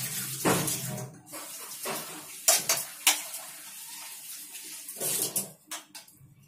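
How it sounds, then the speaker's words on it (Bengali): Chopped banana flower is washed by hand in a bowl of water, bursts of splashing and sloshing with bumps against the bowl coming in several separate rounds, close and moderately loud. "এবার আমি মোচাটাকে ধুয়ে ভালো করে দিয়ে নেব"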